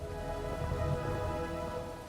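Steady rain pours down in an animated Hindi village story, a dense, continuous hiss with soft low patter throughout, no voices over it.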